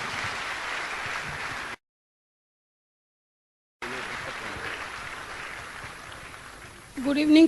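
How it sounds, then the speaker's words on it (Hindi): An audience at an Amway business event breaks into loud, sustained applause that stops abruptly for a silent gap, then resumes before a voice starts speaking at the end. "जोरदार ताली इसके लिए"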